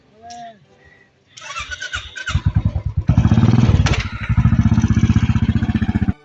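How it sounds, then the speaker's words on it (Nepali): A motorcycle engine revs up and roars at speed, its pulsing growl rising and falling close by, with a brief voice at the start. "त्यसपछि दाइले बाइक एकदम पेसकरी कुदाउनु भयो"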